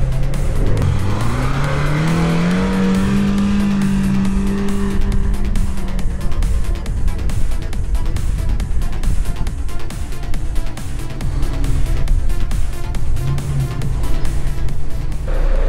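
A 4x4 car on inflated MTX mud-terrain tyres drives through sand in second gear, its engine revving and straining loudly and steadily up close, with the tone rising and falling through the whole stretch.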